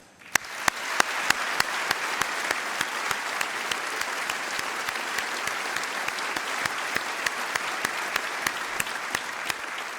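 A large audience applauds at a Basketball Hall of Fame enshrinement ceremony, a dense sustained wash of clapping for about ten seconds with sharp individual claps standing out near the front, even in level and free of speech.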